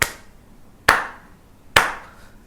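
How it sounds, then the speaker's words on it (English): Three sharp, single hand claps spaced evenly just under a second apart, each loud and close with a quick fading ring, and near silence between them. "when you make a clap,"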